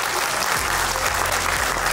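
Loud, continuous applause from an awards-ceremony audience, many hands clapping densely and steadily throughout.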